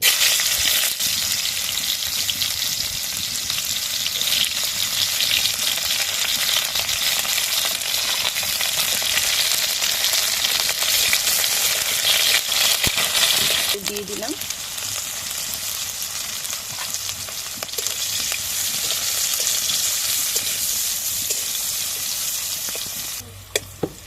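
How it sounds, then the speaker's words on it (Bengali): Bitter gourd frying in a little hot oil in a wok, a steady, loud broadband sizzle running almost continuously with stirring, briefly dipping midway before resuming. "এবার প্রথমে আমি উচ্ছেটা একটু ভেজে নেবো"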